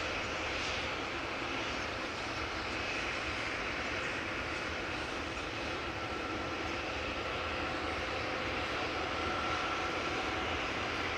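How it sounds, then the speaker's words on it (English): A KLM Boeing 787-10 Dreamliner passes by at Amsterdam Schiphol airport, heard as a faint, distant, steady jet rumble with a soft high whine. "And yet another Dreamliner passing us by over here."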